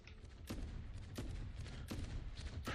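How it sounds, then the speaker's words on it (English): A shotgun fires in The Fate of Baldr video game, four sharp, evenly spaced blasts roughly 0.7 seconds apart over a low rumbling game background, fairly quiet overall. "Prefer the shotgun."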